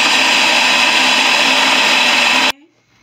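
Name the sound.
blender blending chili with bouillon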